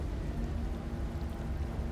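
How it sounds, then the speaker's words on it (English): Rain falls in the video game Slay the Princess, a soft, steady patter with a low rumble, continuous and moderately quiet, with no talk. "Is there a reason it would be raining?"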